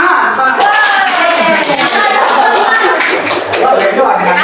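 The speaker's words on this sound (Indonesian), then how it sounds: "Tepuk tangan" Children clap together in an elementary school classroom, a burst of rhythmic, closely spaced claps carried on over lively young voices and a teacher's speech.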